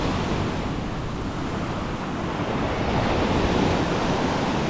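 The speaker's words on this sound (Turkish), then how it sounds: "Üzerine kocaman da büyük dalga geldi." Sea waves roll and wash at sea during bluefish spin fishing, a continuous loud roar of surf mixed with buffeting wind noise and no distinct single crash.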